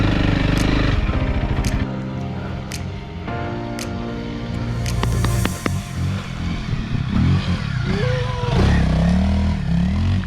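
A Honda CRF300L motorcycle ridden through sand, its single-cylinder engine revving and labouring up close with uneven throttle surges and clattering, rising loud near the end.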